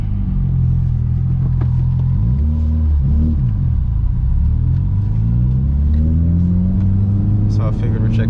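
A couple of Mitsubishi Evo X cars drive to a car meet in Orlando, their loud, close engine drone rising and falling in pitch as they move along.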